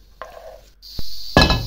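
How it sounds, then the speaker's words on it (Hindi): A metal pan clanks down onto a stovetop for dal tadka with a couple of sharp knocks and scrapes, loud and close, with no talking. "पैन रखा, इसमें ऑयल डाला।"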